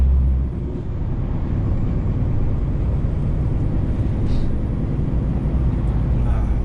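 Steady, loud low rumble of a truck driving along the road, heard from inside the cab, with constant engine and road noise and no clear breaks.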